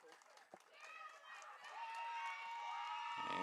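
Softball team and dugout cheering at a high school sectional game, a crowd of young voices yelling and chanting from a little distance, rising into a sustained roar under an announcer talking.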